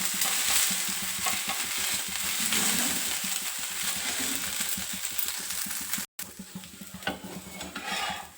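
Rava dosa fries on a pan with a steady, close hiss and crackle that continues without pause apart from one brief cutout near the end.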